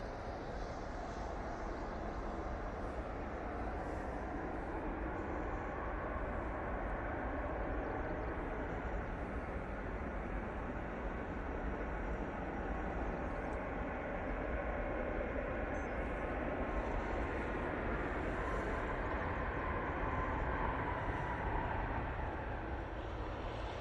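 An airplane takes off at Manchester Airport, its engines producing a loud, steady roar with no break for the full length and no voices over it.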